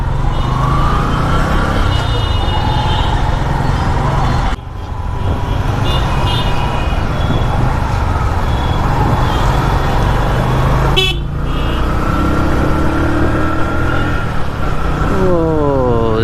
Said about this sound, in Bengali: এই যে বলতে বলতে জ্যাম শুরু।